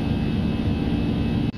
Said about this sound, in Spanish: las turbinas a tope y vamos a hacer la prueba de cancelación de ruido